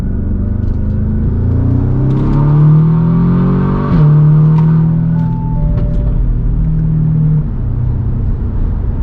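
An Audi S3 8V fitted with a Powerflex dogbone engine mount revs hard, rising and falling through loud, close engine and exhaust pulls with droning tones and a brief shift in between.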